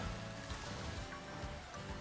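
Steady rain pattering in Pokemon Scarlet, a dense even hiss of drops filling the scene without pause, moderately loud and with no voices over it.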